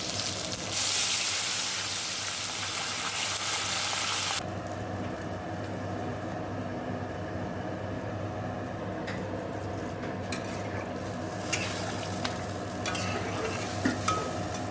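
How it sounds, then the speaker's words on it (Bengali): Frying and stirring in a pan while cooking a latha fish curry: a loud sizzle for the first few seconds, then a quieter steady frying hiss with occasional scrapes and clinks of the spoon. "এটা দিয়ে একটু ভালো করে ভাজা ভাজা করে নেব"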